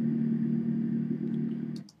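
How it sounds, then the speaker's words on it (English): Bus station ambience from a sound effects library: a steady low engine idle rumble, likely a bus, fills the scene, with faint distant clatter near the end as the drone fades out. "We've got bus station sound effects"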